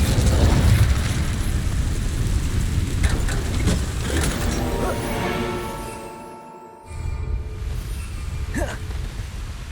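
Incendio fire spell cast in Hogwarts Legacy, a loud roaring burst that fills the clip with a dense rumbling, crackling blast, briefly dropping away before flaring again with sharp pops.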